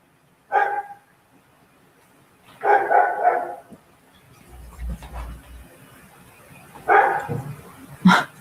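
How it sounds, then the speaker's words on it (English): A dog gives three or four separate barks indoors, short loud bursts spread out with quiet gaps between them, the last one sharp and close. "That would be my dog barking, who never barks."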